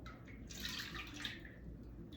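Melted butter, two sticks that were cooling on the counter, is poured into a mixing bowl for cookie dough, giving a short soft liquid splash and trickle.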